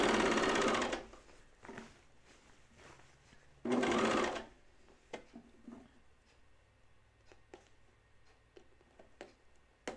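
A sewing machine runs an easing stitch on a dress in two short loud bursts, with quiet pauses and small clicks between them.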